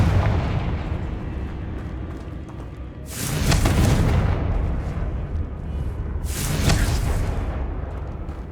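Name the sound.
Confringo blasting spell explosion in video game Hogwarts Legacy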